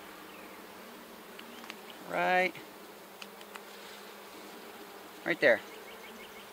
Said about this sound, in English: we'll go on and inspect other hives in the bee yard